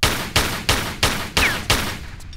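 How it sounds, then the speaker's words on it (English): Gunfire from the video game Tomb Raider 3, five loud, booming shots fired at an even, rapid pace, each ringing out before the next, with no voices. "It's just the shots are very loud."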